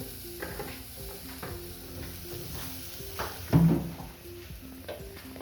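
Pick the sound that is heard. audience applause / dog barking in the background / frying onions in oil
frying onions in oil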